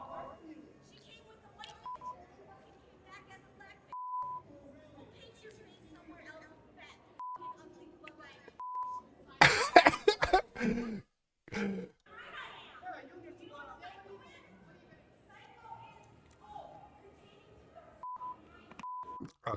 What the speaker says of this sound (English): They beeped out all the good parts